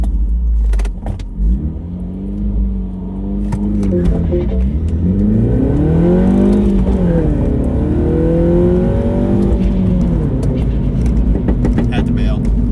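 A car accelerates hard on a public road in a street drag run, engine revving upward through rising gear pulls, loud and close from inside, with people talking over it.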